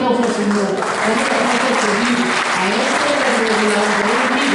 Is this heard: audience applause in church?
yes